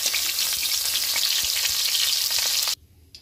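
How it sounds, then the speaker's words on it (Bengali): Cauliflower pieces frying in hot oil make a loud, dense crackling sizzle that runs steadily for almost three seconds and then cuts off abruptly to near quiet. There is no speech. "দেখুন আমি লাল লাল করে ভেজে নিয়েছি ফুলকপিটা।"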